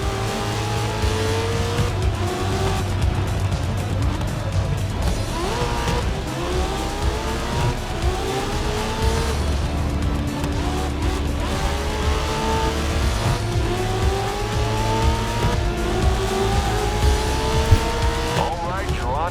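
Race car engine in Grid Legends revving up through repeated gear shifts with tire squeal, loud and continuous, while voices talk over the racing.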